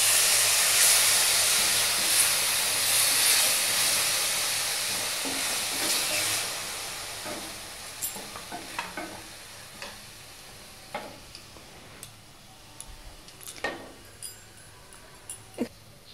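Tomato puree hits a hot pan with a loud, hissing sizzle that fades gradually over several seconds, then gives way to scattered clicks and scrapes of stirring against a softer, lingering fry.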